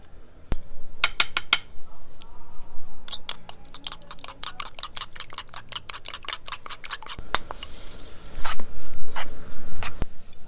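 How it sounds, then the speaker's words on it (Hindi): A spoon clinks rapidly against a bowl as an egg is beaten for gulab jamun dough, bursts of quick metallic taps with short pauses and a few sharper knocks. "एक अंडा लेंगे और इसको हम ये पहले अच्छी तरह फेंट लेंगे अंडे को"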